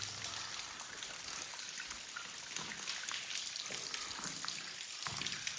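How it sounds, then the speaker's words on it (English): Water runs and trickles out of the wall of an abandoned railroad tunnel, a soft, steady splashing stream heard alone at low volume. "Here's that water you hear running."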